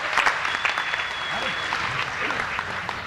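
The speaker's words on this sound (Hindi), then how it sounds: "जोरदार तालियां" Loud audience applause for a poet at a Hindi comedy poetry recital, a short dense burst of clapping with voices murmuring underneath.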